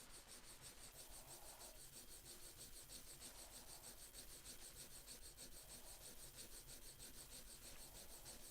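A woodblock carving blade is sharpened by hand, giving a steady, continuous close-up rasping rub of steel on stone that runs throughout, with faint high hiss above it and no talk.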